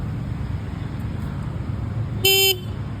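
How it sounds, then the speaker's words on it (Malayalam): A single short, bright bicycle horn toot rings out over a low rumble of passing traffic. "ഹോൺ അടിച്ചേ"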